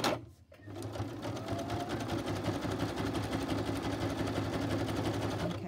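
A sewing machine runs a zigzag stitch on a mini journal, starting after a brief pause and then humming and clattering in a steady, continuous rhythm up close.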